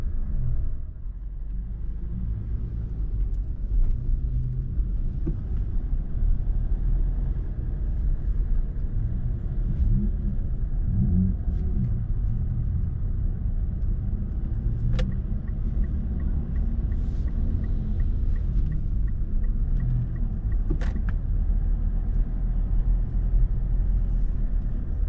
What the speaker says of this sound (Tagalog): Dito sa mga ganitong part mahirap i-drive si Montero. Paakyat tapos traffic.